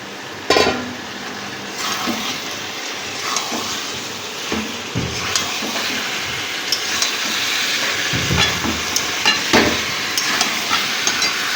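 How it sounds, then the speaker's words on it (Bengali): Chicken and potatoes frying in a pan produce a steady close sizzle and hiss, broken by scattered clanks and stirring scrapes, with no talking. "এদিকে চিকেনটা আলুটা ভাজা হয়ে গেছে"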